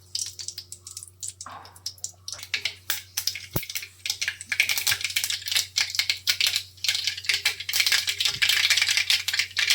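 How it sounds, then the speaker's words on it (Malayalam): Mustard seeds crackle and spit in hot oil in a home kitchen while masala dosa filling is cooked, the dense rapid popping building louder over several seconds with no voices. "കുറച്ച് കടുക് ഇട്ട് കൊടുത്തിട്ടുണ്ട്."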